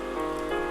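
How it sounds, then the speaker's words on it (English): Rain falls steadily on a surface, a dense even hiss that holds at a constant level throughout with no talking. "Oh, now it's raining"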